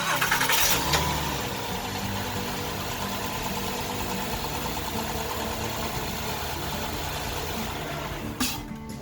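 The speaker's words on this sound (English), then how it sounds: "so the engine starts up, it runs" A 2013 Honda Pilot's 3.5-litre engine cranks briefly and catches, then settles into a steady, close idle that runs on without a break, with a short knock or clatter near the end.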